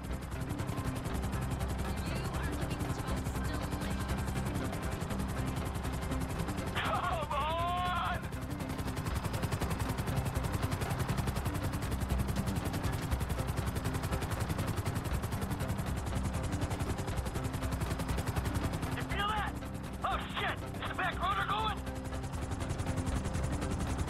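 Helicopter rotor noise in GTA 5, a continuous loud whirring drone with rapid chopping texture, joined by brief bursts of gunfire-like crackles and short whining sweeps near the start and end, with no speech.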